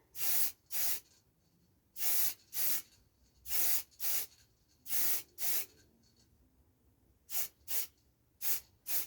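Short hissing bursts of spray paint coat a wooden wand, about a dozen quick blasts in pairs and triples with brief pauses between them, close and clear with no voices.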